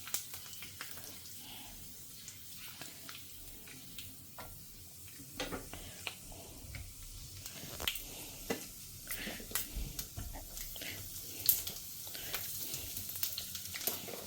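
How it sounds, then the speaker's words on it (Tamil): Mustard and fenugreek seeds fry in hot oil in a home kitchen, making faint crackling pops and sharp ticks that grow busier toward the end, with occasional light clinks. "எண்ணெய் சுட ஆரம்பிச்சுடுத்து நான் இப்போ கடுகு வெந்தயத்தை போட்டுக்கிறேன்"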